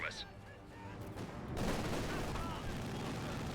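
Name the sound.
half-track machine gun firing in video game Company of Heroes 2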